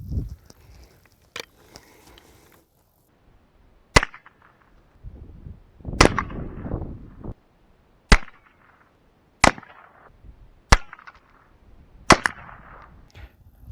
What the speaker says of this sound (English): I'm just gonna shoot the eggs on the right side with the 22 and then the eggs on the left